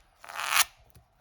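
Tarot cards of casino-quality paper being shuffled: one brief crisp riffling rush of paper, close and soft, followed by a faint tap.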